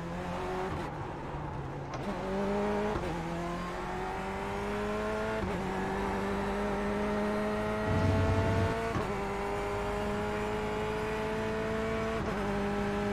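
The Chevrolet Corvette C8.R GTE race car in the iRacing sim sounds a steady engine tone that rises through the gears and drops at each shift, fairly quiet and continuous with no talking.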